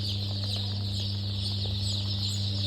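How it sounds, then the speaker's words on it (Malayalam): Newly hatched Kaveri chicks and chickens cluck and peep softly over a steady electrical hum, continuous and moderately near. "ഇന്ന് നമ്മുടെ ഇവിടെ വിരിഞ്ഞത് കാവേരി കോഴിക്കുഞ്ഞുങ്ങൾ, മെയിനായിട്ട് കാവേരി."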